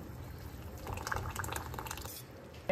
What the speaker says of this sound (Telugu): ఇప్పుడు ఆ పప్పుని దీంట్లో వేస్తున్నాం.